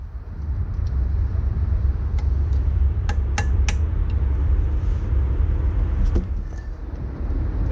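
A brake caliper pin on a Maserati Quattroporte front brake is tapped in with a tool, producing a few sharp, close metallic taps over a steady low background rumble.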